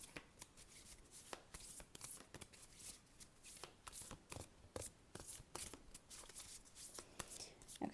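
Hands shuffling a matte tarot deck up close, a quiet, steady run of soft riffling flicks and taps repeating throughout, with faint speech in the background.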